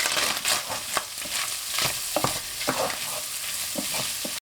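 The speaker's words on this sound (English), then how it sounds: "you'll know when it starts browning because it'll start crackling, and when you scrape it off the bottom of the pan" Italian sausage browning in a skillet, crackling and sizzling while a utensil scrapes it off the pan bottom, with repeated sharp scraping strokes over steady frying, loud and close, no talk.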